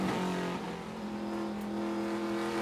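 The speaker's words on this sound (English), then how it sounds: "And that car sounds amazing, Kyle." Trans Am race car at Sonoma Raceway, its engine howling loud and close with steady harmonic drone, held at high revs throughout.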